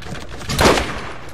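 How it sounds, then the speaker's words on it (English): Gunfire striking the player in the Borderlands shooter game, a short loud burst of rapid shots blurring into one rough crackling swell, close and alone. "I'm getting shot in the back."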